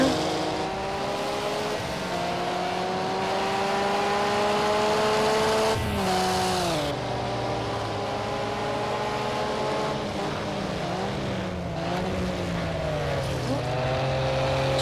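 Race cars in Project Cars 2 at the Red Bull Ring GP circuit, engines whining loud and close as they brake and accelerate through a tight corner, pitch dropping and climbing in sweeping arcs with a brief tire squeal.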